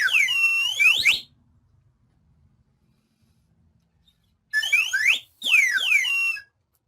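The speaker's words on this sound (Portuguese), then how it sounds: "isso aqui chama-se flauta de êmbolo" A slide whistle plays two sets of quick bright swoops, one burst at the start and two more a few seconds later, gliding up and down in pitch. Near silence fills the gap between them.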